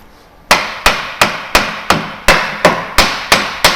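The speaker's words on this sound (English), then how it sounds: "I'm going to try to hit it to try to create a vibration without breaking it, so that it helps break the seal of the silicone." A hammer strikes a Miata differential nine times in a steady rhythm to break its silicone seal. Each sharp metallic knock rings briefly, close and loud, with no talking.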